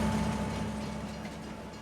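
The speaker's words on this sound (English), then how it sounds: "the train driver is going to take those goods to be sold at Marisone" A freight train carrying 67,000 litres of sorghum pulls away with a steady low rumble and a faint engine hum. The sound fades slightly as it moves off, with no voices.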